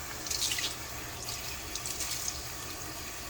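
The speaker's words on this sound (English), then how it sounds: "So I'm just gonna do one-handed cleaning of this, rinsing with hot water." Hot water runs steadily from a tap into a sink while a cleaning cloth is rinsed, making a continuous close hiss with brief splashes.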